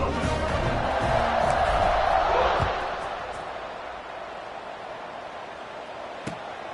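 Stadium crowd at a Washington vs TCU game in the College Football 26 video game, a loud steady roar that swells and then eases to a lower wash of crowd noise under a commentator's voice.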